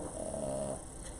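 A dog snoring nearby, one rough, drawn-out breath with a low rumbling buzz, followed by quieter breathing against a steady background hum.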